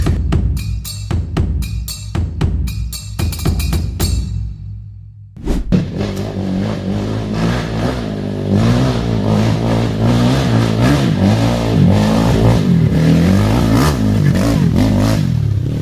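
A Kawasaki KLX 207cc trail motorcycle with a full bore-up, fired up with several sharp throttle blips and then held in a steady, loud, close revving drone.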